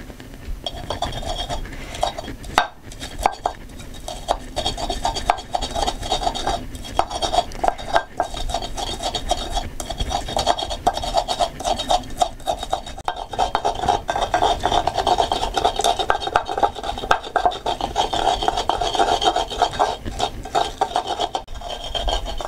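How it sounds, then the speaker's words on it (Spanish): Garlic and onion are crushed by hand, making a continuous gritty rasping and grinding with small clinks and knocks, fairly close and steady throughout without any talk. "Una vez terminando de machacar los condimentos"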